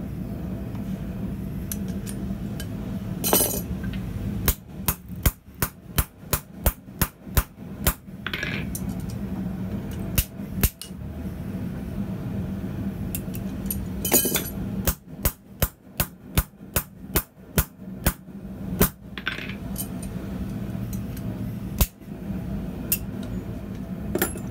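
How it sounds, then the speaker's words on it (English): Hammer blows drive an old worn punch, used as a drift, through the eye of a hand-forged grab hook, ringing metallic strikes in quick rhythmic bursts separated by pauses over a steady low background hum. "This old worn down punch works well as a drift."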